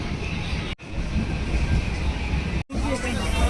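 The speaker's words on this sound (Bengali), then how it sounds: "দেখো ট্রেন আমাদের বেনারস ঢুকছে।" Train moving as it enters Varanasi station, heard from inside as a loud continuous rumble with wheel noise. Two brief dropouts break it, and voices murmur in the background.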